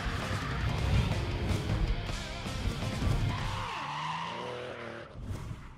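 Drift cars at the French Drift Championship in Chamrousse, including a BMW, push loud tire squeal and skidding alongside roaring engines, the screech building and sweeping in pitch as a car slides through a corner.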